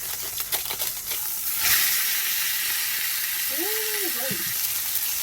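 Butter and heavy whipping cream sizzle in a pan at a truck camp, a steady broadband fry hiss filling the clip, with a brief whistling tone near the end.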